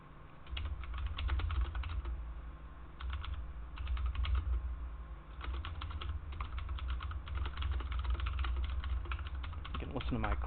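Typing on a computer keyboard comes through as bursts of quick, close clicking, with pauses between runs and a low steady hum underneath.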